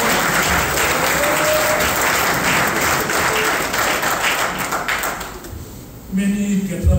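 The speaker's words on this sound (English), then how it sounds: "So give yourself a round of applause." Loud applause from the audience at a Spiritual Baptist men's conference, a broad roar of clapping that gradually thins and fades before a voice begins speaking at the end.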